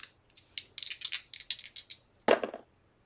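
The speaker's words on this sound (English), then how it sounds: "dice roll" Dice clatter and tumble across a surface during a solo tabletop roleplaying game, a quick run of sharp rattling clicks and bounces, then a second shorter burst of rolling taps before settling.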